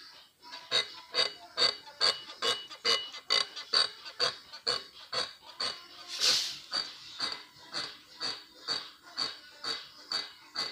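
A Ford Focus 3 door creaks in a steady, repeated rhythm, roughly two squeaks per second, loud and close, with a sharp brief click partway through.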